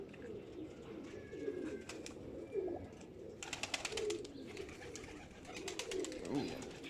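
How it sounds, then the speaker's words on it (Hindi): Male pigeons coo in a loft, soft repeated rolling coos and some wing flutters, fairly close and moderate in level with a faint voice in the background. "अंदर नर भी पूरी मस्तियों में गुड़गुड़ गुड़गुड़ लगे हुए हैं।"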